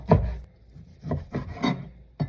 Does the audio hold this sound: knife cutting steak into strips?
yes